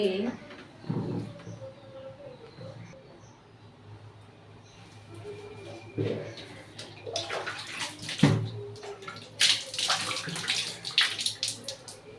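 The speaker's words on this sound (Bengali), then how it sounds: "হাত ধুতে হবে" Hands washed under running water from a tap, a close splashing stream with shifting gurgles and intermittent louder bursts as hands move through the flow.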